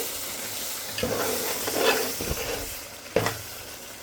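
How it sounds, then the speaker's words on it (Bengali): A spoon scrapes and stirs thick, spicy chicken teheri gravy in a pan of hot oil, with a few distinct clattering strokes over a soft, continuous sizzle. "এখন আমি এই গ্রেভিটা একটু নেড়ে চেড়ে দিয়ে"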